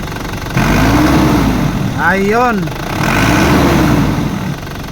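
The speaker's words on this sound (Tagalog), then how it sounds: "try natin i-rave ang makina" Isuzu D-Max with a 4HJ1 diesel engine and a low-power fault, idling up close, then revved in two rising-and-falling swells with a quick burst in between, while someone talks over it.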